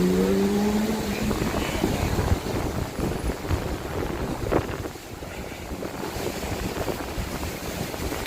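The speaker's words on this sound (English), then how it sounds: "Wow, it got windy all of a sudden." Strong, steady wind in Las Vegas at night buffets the microphone with a constant low roar for the whole stretch, and brief tonal hums appear at the start.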